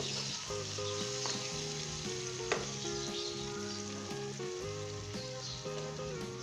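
Potato, pea and carrot curry frying in a pan with fried onion and spices, giving a steady sizzle throughout under a louder layer of background music, with one brief clatter midway.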